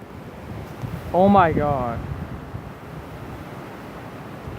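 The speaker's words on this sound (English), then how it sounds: "It was fucking windy as shit." Strong gusting wind roars continuously across the microphone during a windstorm, a loud broadband rush, and a voice briefly exclaims over it.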